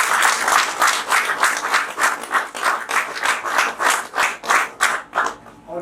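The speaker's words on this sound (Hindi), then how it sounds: "चलिए, सर लोगों के लिए जोरदार तालियां हो जाएगी।" A training-session audience gives a hearty round of applause, loud and close, with the many hands falling into a rhythmic, pulsing beat that carries on for several seconds.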